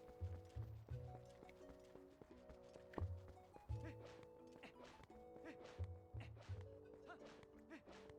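Horse hooves clip-clop in Zelda: Twilight Princess, a steady walking gait over a looping game music bed, with a few heavier thumps; the hoofbeats stay moderately close and sit under the background score.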